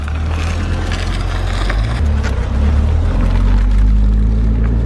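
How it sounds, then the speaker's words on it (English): A high-mileage Chevrolet C5 Corvette V8 cold-starts and settles into a loud, steady rumble close by that grows slightly rougher partway through, with no voices. "let's get a second cold start up. We just got the V12, let's see how the V8 stacks up"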